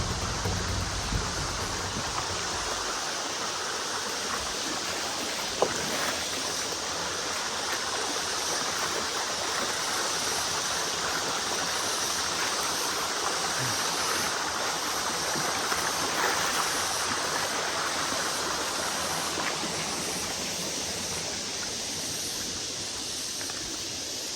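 A river rushes steadily nearby, a continuous broad wash of flowing water with no voices.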